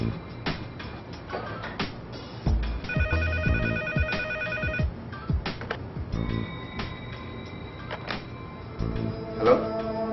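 A cell phone rings in a Tamil film scene, its repeated electronic ringtone bursts sounding over a busy background of clattering and movement, loud and close.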